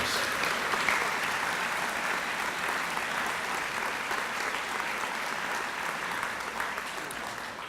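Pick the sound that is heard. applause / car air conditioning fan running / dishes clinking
applause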